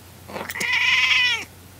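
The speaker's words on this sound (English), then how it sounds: "Stop meowing." A kitten gives one drawn-out, high meow, loud and close, after a couple of short chirpy starts, then quiet.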